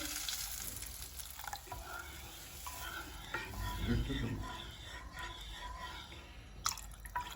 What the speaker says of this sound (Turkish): Hemen suyumu ilave ediyorum.